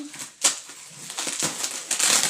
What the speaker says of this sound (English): Right, I have to get the box cutter out again.